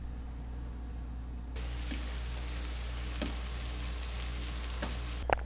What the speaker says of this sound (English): we have the shrimp and the prawns and the scallops all in the pan. And we're going to fry those up really quick